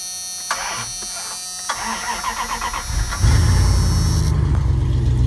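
A car engine cranks with a sluggish, labored starter, from a weak starter or battery, for a few seconds before catching and settling into a steady idle, close by.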